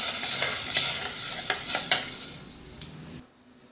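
Sambar of tamarind and jaggery stirred in a cooking pot, a close, irregular scraping and clinking of a spoon against the metal for about three seconds, then sudden quiet.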